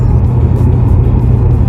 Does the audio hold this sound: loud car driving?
yes